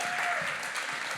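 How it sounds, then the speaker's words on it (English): Brief applause from a youth gathering audience honoring a couple after a relationship panel, steady clapping filling the room at moderate volume without a break. "can we give a round of applause to Marc and Olivia?"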